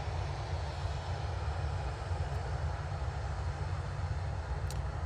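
Ryanair airliner departing Manchester Airport for Porto, a continuous low engine rumble and roar heard from a distance, steady throughout without talk.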